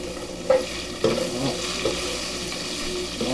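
Onions fry in a pan with beef drippings, giving a steady sizzle broken by a few distinct scrapes and stirs against the pan bottom.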